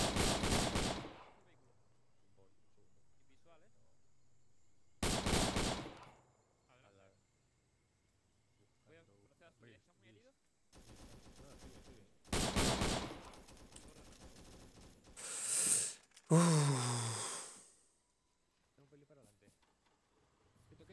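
Bursts of gunfire in a Vietnam War video game, short loud volleys from the north separated by quiet gaps, with occasional Spanish voices speaking between shots.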